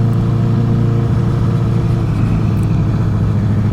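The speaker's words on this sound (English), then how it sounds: "There's a lot of traffic for this time of day." Steady road traffic and engine drone heard from a moving motorcycle, a loud continuous low rumble throughout with no talking.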